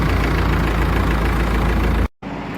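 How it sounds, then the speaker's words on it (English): A tractor-trailer loaded with long logs drives slowly along a snow-covered forest road, its heavy engine a steady loud rumble that cuts out briefly near the end before resuming. "The tractor-trailer loaded with logs rolled slowly down the snow-covered road"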